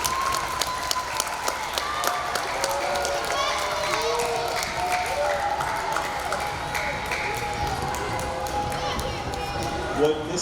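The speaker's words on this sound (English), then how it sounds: "Give a round of applause for all of our students up here." Applause for elementary students at an awards ceremony fills the room, steady clapping with a few sharper claps standing out and voices and crowd noise mixed underneath throughout.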